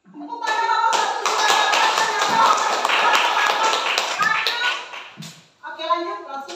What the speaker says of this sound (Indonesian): Tepuk tangan nomor satu.